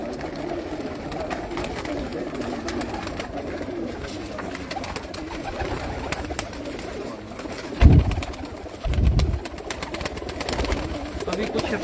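Pigeons on a rooftop loft in Hafizabad, a flock of over a hundred birds, give low soft coos and wing flutters, with two louder close bursts near the end, under steady outdoor background noise.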